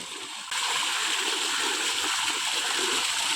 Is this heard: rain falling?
no